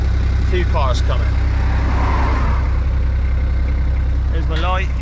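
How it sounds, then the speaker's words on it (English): Two cars approach along a country road, a broad swell of road noise rising and fading near the middle over a steady low rumble, with someone talking at the start and end. "Two cars coming."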